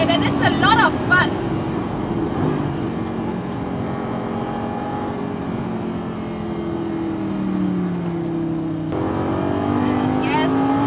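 A Lamborghini Gallardo or Ferrari F430 F1 lapping a racetrack, its engine droning and shifting pitch as it pulls through gears, with someone talking over the steady mechanical roar.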